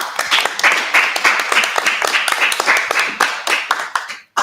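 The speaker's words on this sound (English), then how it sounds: "I'd like to just encourage you all to give him a round of applause." Participants in an online meeting clap together for several seconds, a dense patter of many hands with individual claps popping out, fairly loud and steady before cutting off abruptly.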